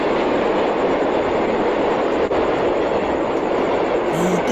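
A train rumbles past continuously and loudly with steady broadband rolling noise and a faint squeal near the end, no voices over it.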